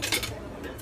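Dishes set down in a kitchen sink give a brief clatter of crockery near the start, then faint background noise follows.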